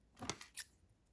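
Two or three quick, crisp snips of scissors cutting crochet yarn for a keychain, close by and fairly soft, with no talk.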